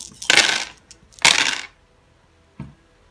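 Dice clatter onto a hard table in two rattling rolls during a Deadzone tabletop wargame, followed by a single short knock as one settles.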